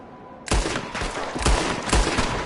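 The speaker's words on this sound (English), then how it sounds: "There's another one shooting from a window." Rapid video-game gunfire from a shooter at a window, a loud burst of repeated shots starting abruptly and continuing with sharp cracks at irregular intervals, no talk over it.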